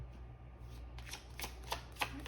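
A deck of tarot cards shuffled by hand, a soft riffling flutter with a few louder snaps near the end, close and quiet with no talking.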